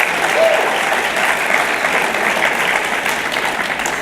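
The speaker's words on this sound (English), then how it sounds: "if we can give them a round of applause before we start" An audience at a Hyde Park event applauds contestants seated in the front row, a steady wash of many hands clapping that holds at an even, fairly loud level throughout with a faint murmur of crowd underneath.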